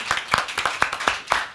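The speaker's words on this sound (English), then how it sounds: "A round of applause." Audience applause at a seminar in the British Parliament, with brisk, close claps in a steady rhythm of roughly six beats over a brief moment, no voices over it.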